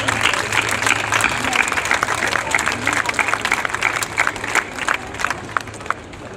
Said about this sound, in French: On peut les applaudir, merci.